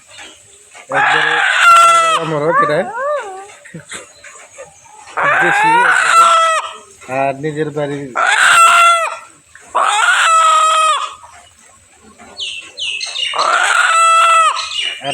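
A domestic desi rooster crows loudly and close in several long bursts, with clucking between them and a voice speaking briefly.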